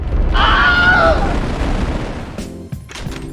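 Rocket ship lifting off in a Roblox game: a loud sustained rumbling roar with a rising whine, easing off before a few sharp bursts and crackles near the end.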